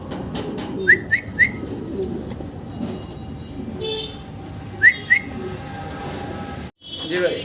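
Fancy pigeons kept for sale call with short soft whistling coos in a few brief bursts, while someone talks over steady background noise.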